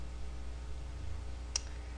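A single sharp keypress click from a computer keyboard as the Alt and Shift keys are pressed, close and brief over a steady low hum.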